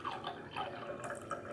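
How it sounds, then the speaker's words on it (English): Cold water poured into a white glass while making a whiskey drink, a brief close trickle with gurgling, bubbly tones that rise slightly as the glass fills, no voices. "Please add the cold water into the white glass"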